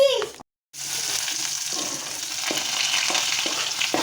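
Oil sizzling in a pan for chicken curry, a steady bright crackle that resumes after a brief cut and continues evenly with occasional soft knocks.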